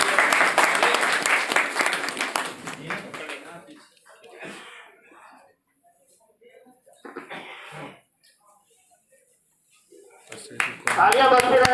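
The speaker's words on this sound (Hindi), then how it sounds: "जोरदार तालियों से इनका स्वागत किया जाता है।" Loud applause at a retirement ceremony bursts out at the start and fades over about four seconds. Scattered murmurs and quieter sounds follow, and a short swell of clapping with voices returns near the end.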